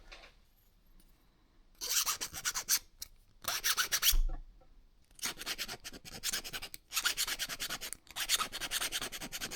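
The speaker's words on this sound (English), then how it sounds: "Now what we need to do is take out the burr on this one." A metal file rasps the burr off the cut end of a metal pipe in several close, loud bursts of rhythmic back-and-forth strokes, separated by short pauses.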